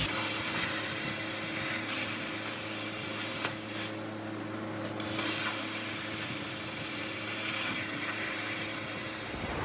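A metal part for a Shovelhead chopper is cut out on a machine, giving a steady loud hissing, spraying cut noise with a low motor hum and a brief pause midway.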